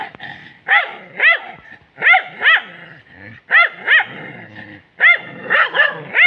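Village dogs fighting a snake in Rebaka bark loudly and close by, sharp barks mixed with growls coming in pairs and clusters with short pauses between them.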